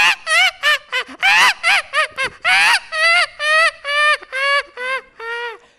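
A voice imitates ducks quacking, a loud close run of nasal, honking quacks in quick bursts that start clustered and then settle into a steadier rhythm, performed on a talent show stage.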